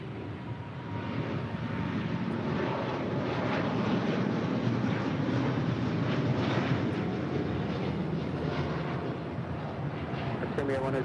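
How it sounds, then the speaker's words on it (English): A Boeing 787-9 Dreamliner jet of Air Premia departs LAX with a steady, broad engine roar that holds loud and even throughout, mixed with some wind noise. "This is Air Premia 102 departing to Seoul in a 787-9 Dreamliner."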